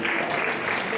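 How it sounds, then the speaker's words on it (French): A church congregation applauds at a Sunday service, a steady, dense wash of clapping that fills the whole short moment without any clear break. "Est-ce qu'on peut applaudir pour la parole de Dieu?"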